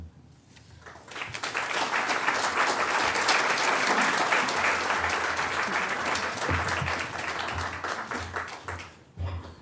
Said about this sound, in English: let's give a round of applause for that interview